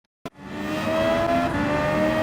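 Suzuki race car in Gran Turismo 7, racing at St Croix in a Gr3 daily race: after a short sharp click, a loud engine note rises and holds steady, revving continuously with no talk.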